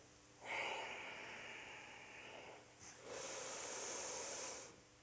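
Two soft, close breaths during a hatha yoga flow: a longer airy exhale, then after a short pause another hissing breath, quiet and alone.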